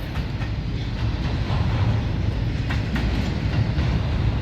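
Southbound freight train hauled by LNG locomotives out of Jacksonville, Florida, rolling past up close as it picks up speed, with a steady loud rumble and clickety-clack of wheels over rail joints.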